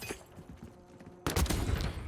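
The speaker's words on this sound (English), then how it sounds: "Can pull out the hand cannon." Hand cannon fire in the Black Ops 6 shooter: a loud heavy shot bursts in at about one and a quarter seconds and rings on with dense crackling gunfire, after a quieter stretch of distant thumps.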